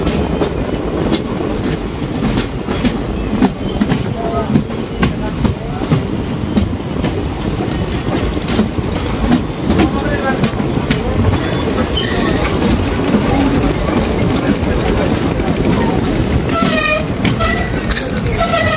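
Sifhung Express passenger train running between New Bongaigaon and Barpeta Road, heard from inside the last compartment: a loud, steady rumble of wheels and rattling carriages with occasional squeals, continuous throughout.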